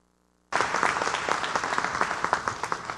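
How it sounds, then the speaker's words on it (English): Audience applause at a 2014 honors ceremony, bursting in suddenly after silence and holding as a thick, steady roar of many clapping hands, loud and close. "give this group a round of applause that they deserve"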